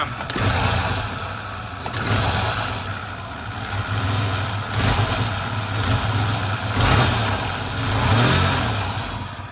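A 1994 Ford Ranger with a faulty idle air control valve revving under light throttle, a close, steady engine roar that rises and falls in a few gentle swells.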